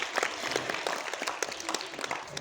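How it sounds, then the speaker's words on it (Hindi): An audience applauds steadily at a Grandparents Day school celebration as an elderly grandparent is welcomed, a dense wash of many hands clapping at even, sustained loudness for the whole stretch. "प्लीज जोरदार तालियों के साथ इनका स्वागत कीजिए।"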